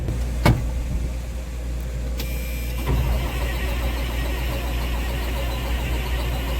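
A 4690 tractor engine cranks over without ether, churning steadily before catching, then settles into a loud, continuous rumbling run close by.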